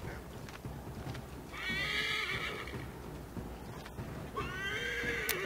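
Two whinnies from a horse in the video game Assassin's Creed 3, each a rising, wavering neigh, sounding over a steady outdoor ambience with faint hoof clip-clop.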